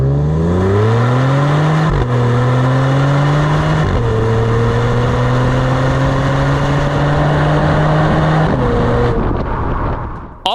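The 3.3-liter twin-turbo V6 of a 2022 Genesis G70 pulls hard through the gears, its engine note climbing and dropping at each of three quick upshifts, loud and close, before it cuts off abruptly.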